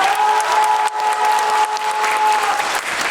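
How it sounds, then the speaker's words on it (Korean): A seated audience at a Busan International Film Festival guest talk for the film Broker gives steady, lively applause. A thin sustained electronic tone runs beneath the clapping. "네, 여러분 박수 한 번만 더 부탁드릴게요."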